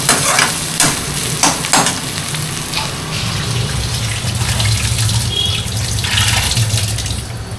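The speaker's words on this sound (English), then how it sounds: "Onion, ginger, green chilies, and going to add curry leaves also." Onion, ginger, green chilies and curry leaves sizzle and fry in a pan for upma, a loud, steady hiss with a few sharp stirring knocks near the start, close by and without talk.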